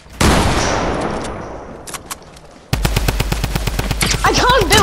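Automatic gunfire from the Fortnite video game, a dense burst that fades off, then a loud rapid run of shots with a rhythmic thumping beat, close and intense, with no talk over it.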